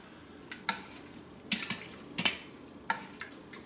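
Pizza sauce being stirred in an Instant Pot, a spoon scraping and clinking against the metal pot in quiet irregular bursts, about a dozen soft strokes spread across the span.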